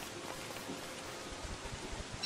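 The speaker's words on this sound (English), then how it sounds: "I love the rain." Soft, steady patter of rain in the video game Don't Starve: Shipwrecked, with a low background wash, fairly quiet and continuous.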